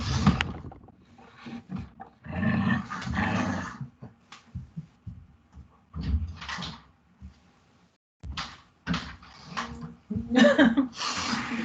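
A mother dog with two new puppies attacks the father dog, with close, loud bursts of growling, snarling and scuffling broken by brief pauses.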